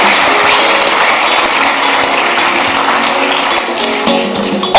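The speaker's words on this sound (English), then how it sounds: "Please let's be generous with our applause and celebrate these young people." Dense, sustained applause from an audience celebrating young award recipients at an Independence Day school awards ceremony, loud and close, rolling on evenly throughout.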